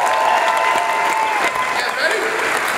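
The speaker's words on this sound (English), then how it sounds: "Give my team a big round of applause!" Audience applause at an on-stage event, steady close clapping that continues evenly throughout, with a voice briefly audible above it.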